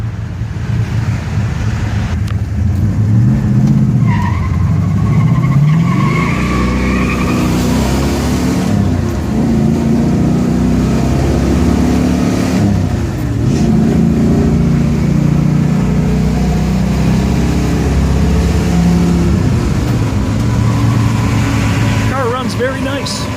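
A 1969 Pontiac GTO V8 revs and accelerates hard with repeated rising engine sweeps and a throaty exhaust rumble, heard close from inside the car, with a person talking over part of it; a rear muffler may be rattling.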